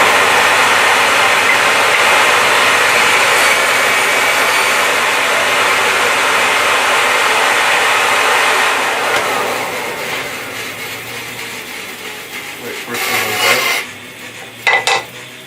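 A BS350 bandsaw rasps steadily through a piece of timber for a pen kit, a loud continuous hissing cut that fades out near the end, followed by a few brief knocks and clatters.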